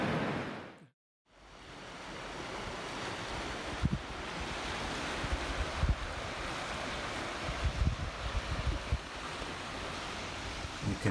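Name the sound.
river rapid waves on the Yangtze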